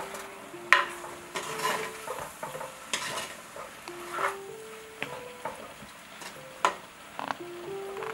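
Dried prawn mallum being turned over in a pan as it steams, giving a steady run of scraping stirs and spoon knocks against the pan over a soft sizzle, close and moderately loud with no talk.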